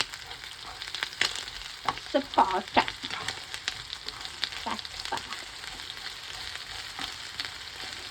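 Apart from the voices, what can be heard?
frying dried sprats (halmasso) in a pan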